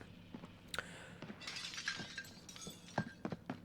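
Glass smashing in the Call of Duty Warzone video game: faint, scattered shattering and breaking crashes with clinking fragments spread across a few seconds over a quiet background.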